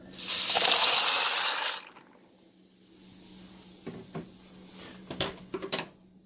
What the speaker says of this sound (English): we're going to go ahead and add this to our water that's boiling